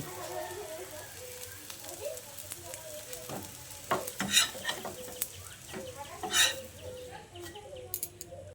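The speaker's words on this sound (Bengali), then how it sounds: "তারপর ওই একইভাবে বাকি অমলেটগুলোকেও তৈরি করে নিচ্ছি।" Soft sizzling in a pan as omelettes fry, with scattered utensil taps and clicks and a few hen clucks in the background.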